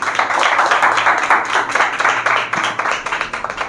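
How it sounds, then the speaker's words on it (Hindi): A crowd applauding at a Sunday church worship service, dense clapping from many hands that rises and then tapers off near the end. "एक बार फिर जोरदार तालियां बजाएंगे।"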